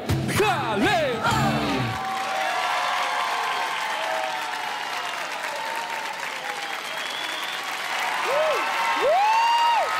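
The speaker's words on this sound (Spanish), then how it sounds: "¡Un aplauso!" Audience applause and cheering after a TV singing competition performance, clapping under loud whoops, yells and a brief burst of music at the start, with more shouts rising toward the end.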